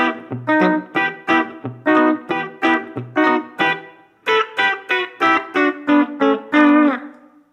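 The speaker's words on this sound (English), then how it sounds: "Without reverb? With reverb." Electric guitar run through a pedalboard with reverb engaged, playing a rhythmic run of plucked chords and notes; each strike rings out with a lingering wash of reverberation, loud and close with no voices.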